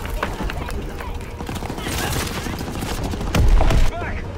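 Machine gun fire in a WWII video game battle, a dense, continuous rattle of shots with a louder burst near the end, while people talk over it.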